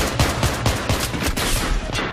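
Rapid, dense gunfire rattles loudly and continuously in a video game firefight where an SVD sniper rifle is in play, the shots blurring into a sustained fusillade.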